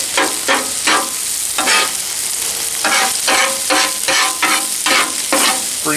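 Chopped ribeye and cheese sizzle on a two-burner Monument Grill flat top while a spatula scrapes and chops in a steady rhythm of repeated metallic strokes over a constant frying hiss, close and loud, with no talking.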